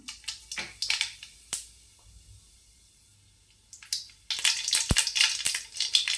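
Mustard seeds sputter and pop in hot oil in a pan, with bursts of close, crisp crackling that pause briefly and then resume more densely.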